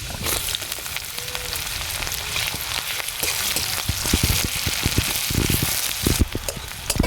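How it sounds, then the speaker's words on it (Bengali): Onions frying in a generous amount of oil in a hot wok, a dense crackling sizzle close by, with scraping stir sounds breaking through in the second half. "পেঁয়াজটা দেখো ভাজা ভাজা হয়ে গেছে"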